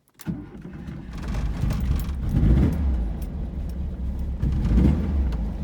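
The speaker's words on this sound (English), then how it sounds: "Nice layered exhaust." A 1973 VW Squareback's air-cooled engine fires up after a brief click and settles into a low, rumbling idle with a throaty exhaust that swells twice, close to the car.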